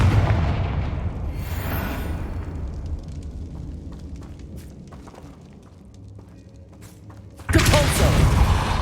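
Spell casts and explosions in the Hogwarts Legacy video game: a rumbling blast fades into a low roar, scattered cracks follow, then a sudden loud explosion near the end, with a voice calling out in between.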